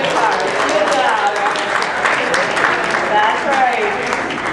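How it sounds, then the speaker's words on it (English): An audience claps in continuous applause for a person being congratulated, loud and close, and voices are heard throughout. "Give her a round of applause."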